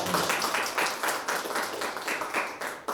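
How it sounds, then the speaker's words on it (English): An audience at a jazz trio concert in a museum gives a round of applause for a performer. The clapping is thick and continuous, swelling in a loose rhythmic pulse for a few seconds. "Give him a round of applause"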